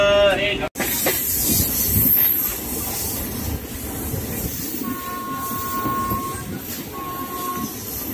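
A passenger train on the Kolkata to Rampurhat run rumbles steadily along the rails, a loud continuous roar with hiss and a brief dropout early on, and faint tonal whines rising over the noise midway through.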